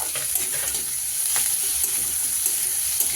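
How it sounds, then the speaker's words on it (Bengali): Onions frying in a pan while being stirred, a steady close sizzle with scattered scraping stir sounds throughout, no voices. "তো পেঁয়াজটা ভাজা ভাজা আগে করে নিই।"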